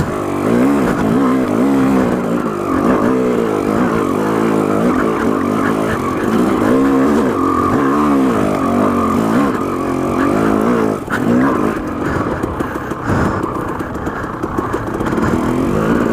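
KTM 300 two-stroke dirt bike climbing a steep hill, its engine revving hard and warbling up and down in rapid bursts, loud and close, then easing off near the end.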